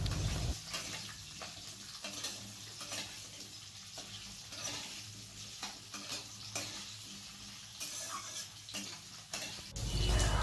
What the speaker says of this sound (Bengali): তো এবার আমি আলুটা ভেজে নিচ্ছি।